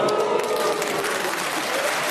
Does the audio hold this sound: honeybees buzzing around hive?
no